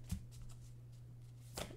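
Tarot cards shuffled in two brief riffling bursts, close and crisp, separated by a quiet stretch over a steady low hum.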